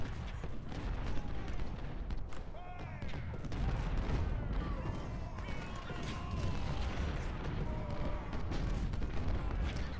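Civil War musket volleys and artillery fire from the strategy game Ultimate General, a continuous crackle of distant gunfire with dull booms and some whistling tones, under a narrator talking.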